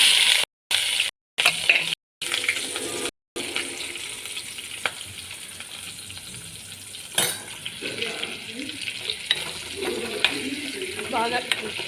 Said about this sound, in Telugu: బాగా నూనెలో ఫ్రై అయిపోతుంది. ఇప్పుడు నూనెలో వేద్దామండి.